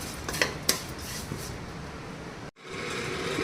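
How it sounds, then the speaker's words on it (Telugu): Vermicelli and flattened rice being roasted together in a pan, giving a soft steady scraping rustle with a couple of sharp utensil clinks early on, close and moderately quiet, with no talking. "సేమియా అటుకులు రెండు కలిపి వేయించడం"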